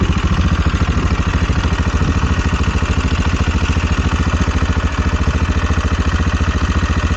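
An SWM Superdual X single-cylinder motorcycle idling close up through its exhaust, with a steady fast even putter and some light mechanical clatter, loud, with no talking.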